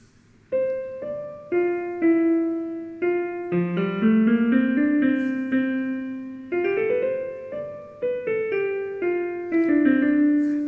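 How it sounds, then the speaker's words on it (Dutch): A slow, stately baroque minuet composed by an AI chip, played on a single melodic instrument, notes moving stepwise in an even triple-time rhythm, clear and alone with no voices. "Zij hebben een artificieel intelligente computer gemaakt die zelf menuetten kan schrijven,"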